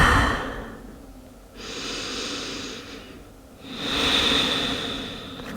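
Slow, audible breaths in a yoga child's pose, two long airy exhales with a short pause between, close and fairly soft, alone without talk.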